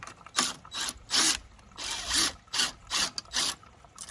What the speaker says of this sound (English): We're going to run that hose clamp out.